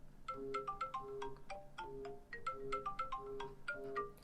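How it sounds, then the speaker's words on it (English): A default iPhone ringtone plays alone, a bright repeating melody of short marimba-like tones in a steady rhythm, clear and moderately loud. "we got this default and really popular type of ringtone"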